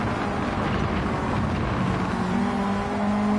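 Racing car engines in a motorsport video game, a steady droning roar of several cars running on medium tyres, continuous and fairly loud with a rising tone toward the end.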